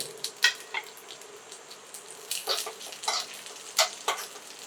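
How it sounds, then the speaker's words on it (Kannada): Raisins fry in hot ghee for moong dal payasa, giving soft crackling sizzles and scraping stirs that come in uneven bursts, close and fairly quiet. "ನಾವು ಅದ್ರ ಜೊತೆನೆ ದ್ರಾಕ್ಷಿಯನ್ನು ಸಹ ಹಾಕಿ ಫ್ರೈ ಮಾಡ್ಕೊಳ್ತೀವಿ."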